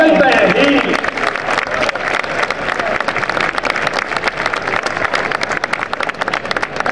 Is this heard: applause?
yes